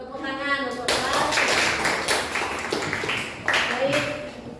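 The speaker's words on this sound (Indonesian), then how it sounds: "Tepuk tangan untuk kelas" A classroom of students claps their hands together in a loud, dense burst of applause lasting several seconds after a short spoken lead-in, with a few voices calling out over the clapping.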